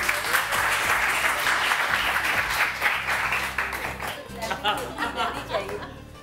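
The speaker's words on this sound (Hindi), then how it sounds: "तो फिर ताली क्यों बजा रहे हो?" Studio audience clapping on a morning television show, steady applause that thins into scattered, uneven claps toward the end.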